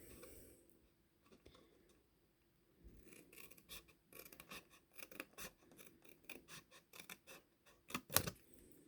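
Scissors snip paper strips for a handmade card, close and quiet: after a near-silent pause, a run of crisp, rasping cuts in irregular bursts, ending with a sharper snip.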